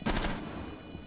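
Several rapid gunshots from Rainbow Six Siege in quick succession, loud and close at the start, then a decaying reverberant tail with a faint later shot, no talking.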